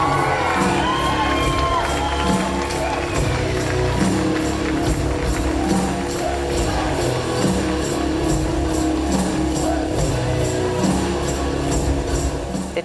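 A large crowd at a cultural show with dancers on stage cheers, whoops and shouts continuously, loud and sustained throughout, with a faint regular pulse running underneath.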